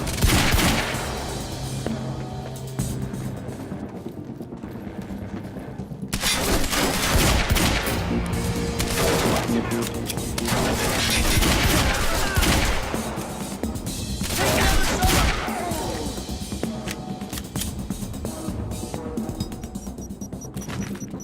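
Gunfire in the video game Quantum Break: sustained volleys of shots and automatic bursts crackle across a loud firefight, with crashes and impacts mixed in and no voices.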